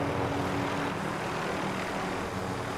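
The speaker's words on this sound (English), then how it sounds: "There's another helicopter." A helicopter flies in Call of Duty Warzone as a steady, loud, continuous rotor and engine drone that stays constant throughout with no voices.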